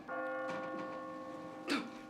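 A church bell rings in a sustained, resonant tone that lingers and decays, with a few faint knocks and a louder clang-like accent near the end.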